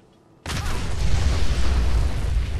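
A loud explosion in the video game Fallout 4 hits abruptly after near silence, then holds as a dense, sustained rumbling roar that stays strong to the end.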